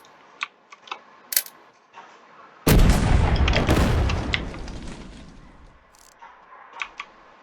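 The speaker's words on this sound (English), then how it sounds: "Decent little explosion with the high explosive." A high-explosive shell fires and explodes in the game Warium: one loud, sudden boom with a long rumbling decay, set among sparse clicks and light mechanical taps before and after.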